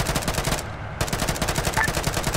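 Sustained machine gun fire in the Arma 3 military shooter, rapid evenly spaced bursts hammering on, loud and close, with a brief pause near the start before the rattle resumes and no talking over it.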